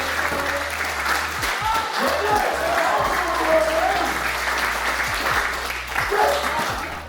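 A crowd cheers and claps steadily at a taekwondo exam, dense applause running throughout with raised voices mixed in, loud and close.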